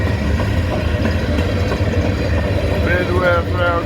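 A train of Midwest rail cars rolls past with a steady, loud rumble and rhythmic clatter that holds evenly throughout, joined near the end by a squealing, wavering metallic tone from the wheels.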